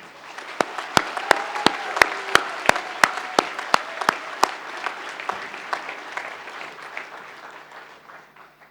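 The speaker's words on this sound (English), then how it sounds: "everybody in the hall will want to join me in a round of applause for our graduands" A hall audience at a university graduation ceremony applauds steadily, with a few sharp nearby claps standing out early before the clapping gradually thins and fades.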